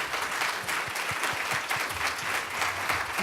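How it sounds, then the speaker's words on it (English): A full audience applauds the speakers at a behavioural-science conference session on nudging for international development, with dense, steady clapping that stays loud and even throughout. "give a round of applause to our speakers"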